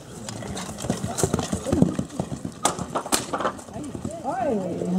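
A horse ridden without stirrups in a horn saddle by a Roman cavalry reenactor, hooves clip-clopping under steady talk, with a brief whinny near the end.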